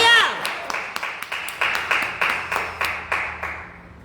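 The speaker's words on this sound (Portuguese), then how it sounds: "aplauda bem forte o nome do Senhor" A church congregation at a Portuguese-language family seminar claps together in a steady rhythmic beat, with loud, evenly spaced claps that slowly fade after a brief voice at the start.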